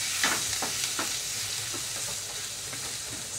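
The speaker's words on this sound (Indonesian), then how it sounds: "Kemudian saya goreng dulu bawang putih." Garlic fries in hot oil, a steady crackling sizzle with intermittent stirring scrapes from a utensil in the pan, close up and without speech.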